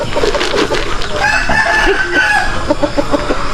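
Chickens clucking on a farm, with a rooster crowing in the middle, close and steady, plus scattered short clucks throughout.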